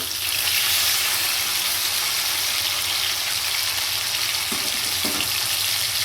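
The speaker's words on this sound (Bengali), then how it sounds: "মাছের একদিকটা ভাজা হয়ে গেছে মাছটাকে এবার উল্টে দেব" Kajoli fish frying in hot oil in a pan, a loud, continuous close-up sizzle with brief scraping knocks as the pieces are flipped.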